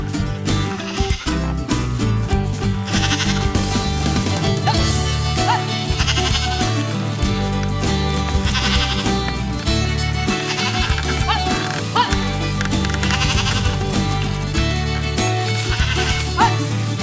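Goat bleating amid a loud, dense musical backing that fills the whole stretch, the animal calls hard to pick apart from the music, heard during an attempt to drive a goat out of a fenced area.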